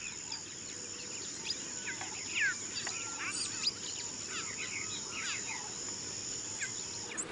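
Southern lapwings call in a territorial display on open savanna, sharp scratchy cries repeating at a moderate distance over a constant high insect drone.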